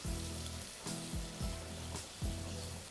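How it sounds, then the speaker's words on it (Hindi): Ginger garlic paste fries with onions in a pan, a steady soft sizzle broken every half second or so by the scrape of stirring, fairly quiet and with no talk. "थोड़ी सी प्याज का कलर चेंज हुआ तो जिंजर गार्लिक पेस्ट डाल दिया 1 tablespoon heat and fry well"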